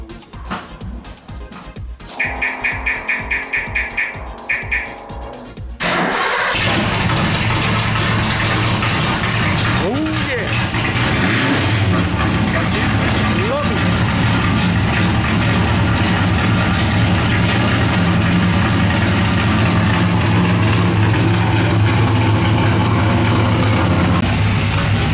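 A 1971 Ford Falcon XY GT tribute muscle car starts after a few seconds of cranking, then settles into a loud, steady, rumbling idle heard up close for the rest of the clip.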